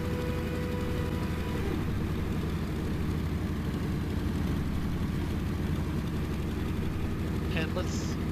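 A steady, loud propeller aircraft engine drones throughout during a carrier landing approach in IL-2 1946, the throttle held at an even roar with no voices.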